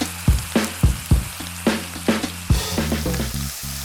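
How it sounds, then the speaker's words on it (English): Carrots and onions frying in a pan for beef bourguignon, with a constant sizzle punctuated by a regular series of loud utensil knocks and scrapes against the pan, close by. "we're going to cook the carrot and onions in there."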